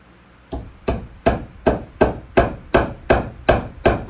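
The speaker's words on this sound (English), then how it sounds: "We got our hammer." Hammer strikes driving a nail in at an angle: ten sharp, evenly spaced blows, loud and close, with no talk.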